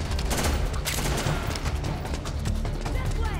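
Gunfire in Metal Gear Solid 4: Guns of the Patriots, a dense, continuous fusillade of overlapping shots and bursts, loud and close, with no clear gap for the whole short stretch.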